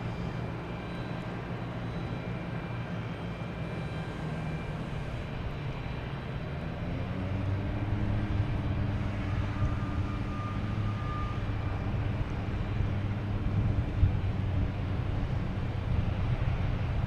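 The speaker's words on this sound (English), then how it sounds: "we have the Delta A330 coming from London Heathrow" A Delta Airbus A330 airliner on Flight 59 from London Heathrow at Boston Logan Airport, heard as a steady, loud low engine roar that swells and deepens midway, with no voices over it.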